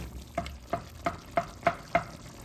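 A spoon scrapes through skinned tomatoes in a cooking pan for Daal Gosht. The strokes come as six soft, evenly spaced scrapes over a low sizzle, with no talking.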